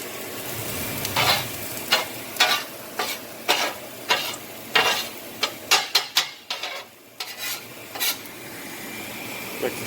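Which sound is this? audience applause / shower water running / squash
squash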